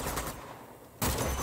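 Gunfire in Uncharted 2: Among Thieves, a burst of loud close shots cutting in abruptly after a quieter stretch, dense and sustained like a fusillade.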